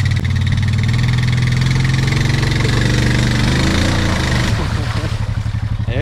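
Honda ATV engine running in a pulling contest against a Can-Am, a loud, close, chugging drone that rises in pitch as it revs and strains, then settles into throbbing pulses.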